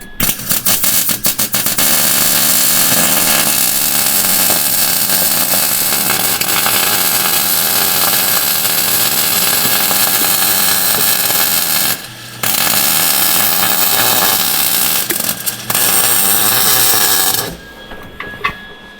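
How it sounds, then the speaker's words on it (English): Welding a repair on the Hillman Crawler rock-crawler jeep: a loud, continuous harsh buzzing crackle close by, running steadily for long stretches with a couple of brief breaks and a stop near the end. "I'm going to weld her up and I'm going to see what it gives us"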